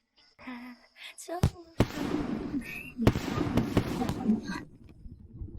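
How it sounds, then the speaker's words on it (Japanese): Fireworks burst and pop in a quick irregular series of sharp cracks with crackling tails, fairly close, over an outdoor scene at a mountain villa, with voices speaking between bursts. "どうしてここで 花火が上がってるの？"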